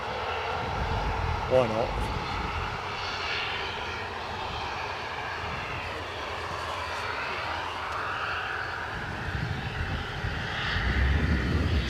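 An ATR turboprop aircraft at Edinburgh airport, its engine drone moderately distant and steady with a rising hum toward the end, while people talk over it at several points.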